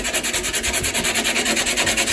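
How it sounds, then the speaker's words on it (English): Rhythmic hand sanding of a foam surfboard, quick back-and-forth strokes repeating evenly about eight times a second, close and fairly loud. "Just polish it off with a nice hand sanding before we flex seal."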